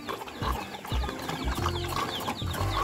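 Chickens and turkeys on a pig farm, close clucking and short bird calls repeating irregularly over a busy farmyard background, with no talk.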